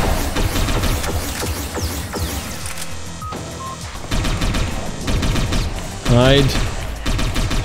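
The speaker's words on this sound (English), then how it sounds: "have this guy fire at people" Gunfire from agents in the Satellite Reign video game, a dense burst of rapid shots and impacts over game effects, with a voice speaking a short word briefly.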